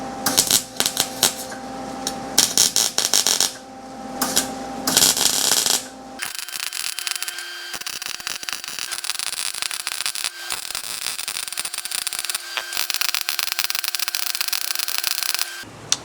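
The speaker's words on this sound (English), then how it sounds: "time to do some welding" Welding on the front end of a 1971 Cadillac Coupe DeVille, with rough crackling and sputtering bursts, a few short stop-start passes followed by one long continuous run, close and moderately loud.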